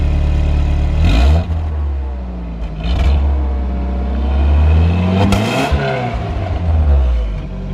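A car engine with its exhaust cut off revs hard in three loud, raw bursts, each one climbing and then falling back to a rough, rumbling idle close by.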